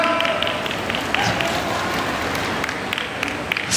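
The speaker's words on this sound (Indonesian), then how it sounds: "Tepuk tangan dong." Applause from a student orientation audience in a hall, dense clapping with a few sharper claps standing out, some crowd noise mixed in and sustained throughout.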